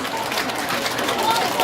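Applause for the Eco Green choir and children at an outdoor environmental culture festival, a steady wash of many hands clapping with a voice faintly underneath.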